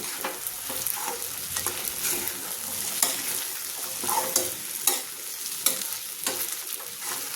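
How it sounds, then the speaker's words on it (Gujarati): Sabudana khichdi with fresh coriander leaves being stirred in a pan, a steady scraping and clinking of the spoon against metal over a soft ongoing sizzle, close and moderately loud with no voices. "આપણે ઉપરથી કોથમીરના પાન લઈ લઈશું અને હલાવી લઈશું."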